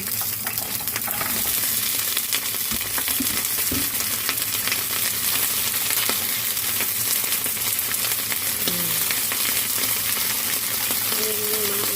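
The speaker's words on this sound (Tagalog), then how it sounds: "Then i-fry natin itong garlic branch or maneltung." Garlic shoots frying in a pan make a loud, continuous sizzle and spatter that runs evenly throughout, with occasional faint clinks and nothing else over it.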